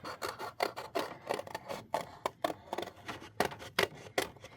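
Card stock being cut down for a handmade tropical greeting card, close quiet rhythmic scraping and snipping strokes repeating steadily throughout with no talking.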